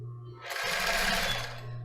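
Sewing machine stitching a seam on a lace bra, a short burst of close, steady whirring that rises out of a low hum and fades back, with no talking.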